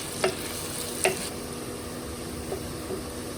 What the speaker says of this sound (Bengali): পেঁয়াজ ভাজার সাথে সাথে আমরা দিয়ে দেব গরম মশলা